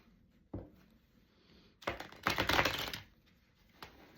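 A quick riffling flutter of cards being shuffled, a short sharp snap, then a brief soft tap; no voices.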